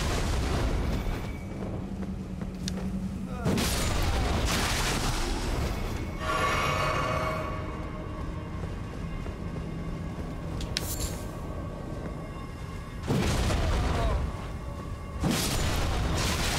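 A slain enemy's head bursts and spews poison in the Elden Ring video game at Volcano Manor, heard as several separate loud, broadband booms spaced a few seconds apart, with quieter game ambience between them.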